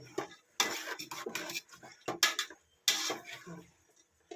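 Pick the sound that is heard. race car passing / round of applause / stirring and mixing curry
stirring and mixing curry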